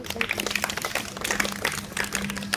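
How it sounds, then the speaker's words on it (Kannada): A brief, dense patter of clapping hands rises from an audience at a school event, applauding a schoolgirl; the applause holds steady throughout, with a faint tonal hum underneath. "ಅವಳಿಗೊಂದು ಚಪ್ಪಾಳೆ ಬರಲಿ"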